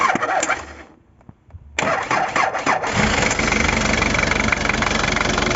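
An English taxi's diesel engine, idle for seven years, cranks briefly, falls quiet, then fires and settles into a loud, close, rough knocking idle.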